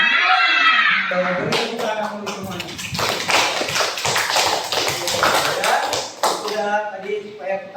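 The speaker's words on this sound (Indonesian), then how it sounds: "kita tepuk semangat dulu supaya semangat" A classroom full of students performs a rhythmic spirit clap, a dense run of quick patterned claps in unison lasting several seconds, with voices calling along at the start and end.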